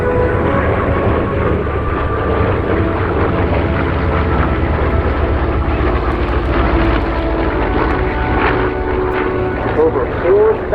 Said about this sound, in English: So the Corsair was the longest produced piston-driven fighter.